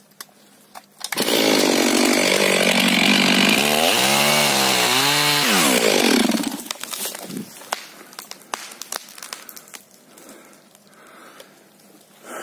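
A STIHL MS 500i chainsaw runs loud and close while cutting a tree in a forest, its engine revving and bogging for several seconds before dropping to idle, followed by scattered rustling and clatter.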